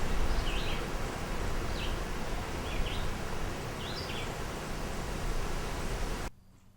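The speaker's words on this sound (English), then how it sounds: "Listen to the high-pitched sound of the cicada." Cicadas at the end of summer buzz in a steady, dense high-pitched drone. The sound is loud and continuous and cuts off abruptly near the end, with faint chirps above it.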